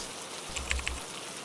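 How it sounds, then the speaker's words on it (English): Rain falls as a soft, steady hiss of drops behind a quiet storytelling setting, faint and even throughout, with a few slightly louder taps near the middle. "The rain had been pouring all evening, tapping against the windows like a quiet, persistent drumbeat."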